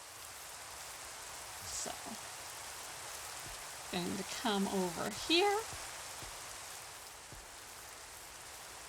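Constant, even rainfall in the Minecraft video game, a steady hiss throughout, with someone speaking briefly over it in the middle.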